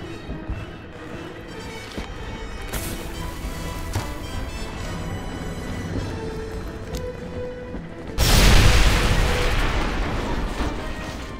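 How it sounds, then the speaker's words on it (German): A flak gun blown up in Medal of Honor: Airborne, a loud broadband explosion bursting in around eight seconds and rumbling on to the end after a stretch of busy game noise. "dafür haben wir jetzt die erste Flak erreicht und können sie sprengen"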